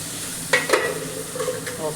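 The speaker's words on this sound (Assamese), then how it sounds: "আচ্ছা বাকী এইপিনে আলু ভাজিছে" Potatoes fry in a pan for a home-cooked birthday meal. A steady close sizzle is punctuated by a few sharp clinks and scrapes of stirring.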